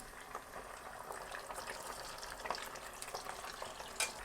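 Karaage chicken crackles and sizzles steadily in hot oil during its second fry, a dense, continuous hiss of small pops at low volume with a few sharper spits.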